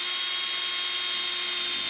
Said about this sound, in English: just drill some holes in here